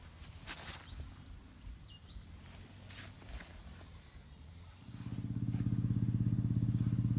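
Motorcycle on an old cart track to the rice fields, faint rustling and birds at first, then the engine starts up close with a loud, steady rumble for the last few seconds.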